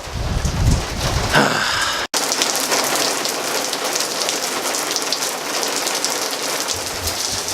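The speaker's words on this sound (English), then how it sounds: "We're gonna start raining out of nowhere." Heavy rain pours down steadily on a surface, a dense hiss that fills the whole stretch after a brief low rumble and abrupt break.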